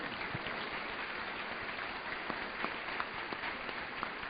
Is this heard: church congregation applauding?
yes